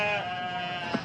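A sheep bleats in a single drawn-out call, close and fairly loud, with a harmonic tone running through the whole moment.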